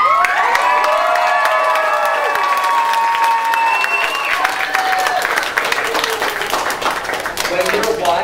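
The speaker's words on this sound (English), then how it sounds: "So I gotta hear some cheering right now." Crowd at a martial arts demonstration cheering and shouting loudly and continuously, high excited voices and whoops rising over steady clapping, close and dense throughout.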